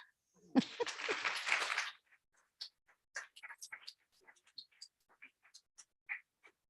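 Brief burst of audience applause at a live university student showcase, a dense clatter of clapping lasting under two seconds before fading into sparse, scattered sounds.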